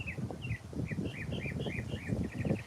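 Birds in a cherry plum tree chirp in a quick run of bright, clustered calls, ending in a rapid trill, over steady low outdoor rumble.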